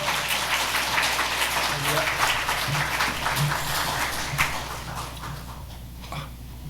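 A church congregation applauds to welcome a guest professor during a Sunday service, steady broadband clapping filling the room throughout and tapering slightly near the end, with a low hum beneath.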